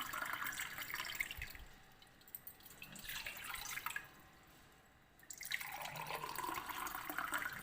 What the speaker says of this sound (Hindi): तो 2 गिलास पानी डालें।